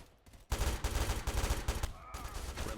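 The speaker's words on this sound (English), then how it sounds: "Friendly smart turret engaging. Contact locked. Firing now." Automatic smart turret fire in the HazmobFPS shooter game, a dense burst of rapid gunshots starting abruptly after a short quiet moment and continuing loud and sustained to the end.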